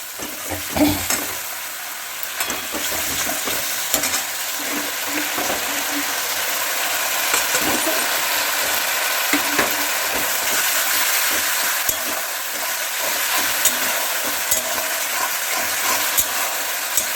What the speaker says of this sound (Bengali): একটু ভালো করে কষিয়ে নিই। কষানো প্রায় হয়েই এসছে